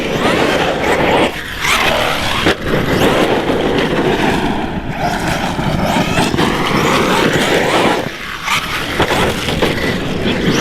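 An ARRMA Nero 6S RC car with a 17T pinion roars continuously at full throttle, its motor whine rising and falling with speed shifts and brief dips as it lands jumps, loud and close throughout.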